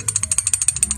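A Honda RS 125 carburetor-type motorcycle engine with piston slap gives a rapid, evenly spaced metallic ticking knock, about a dozen sharp taps per second, heard close up over a low engine hum.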